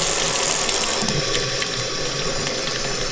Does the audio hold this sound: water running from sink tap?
yes